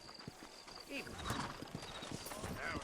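Horses' hooves clip-clop at a steady walk through a frontier town in New Austin in Red Dead Redemption, with soft game ambience and voices around them.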